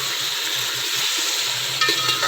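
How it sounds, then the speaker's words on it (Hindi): Beef pieces for nihari fry in ghee with a dense, even sizzle, while low, regular stirring thumps run beneath it and a brief louder spatter comes near the end; no speech. "ये बीफ का गोश्त इसमें डाल दिया। इसकी हमने अच्छी तरह भुनाई करनी है।"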